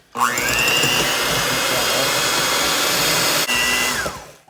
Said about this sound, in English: And then get a mixer.